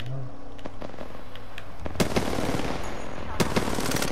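Rapid bursts of gunfire from a first-person shooter match, sharp cracks clustering in a dense volley from about two seconds in, loud and close over a busy game background.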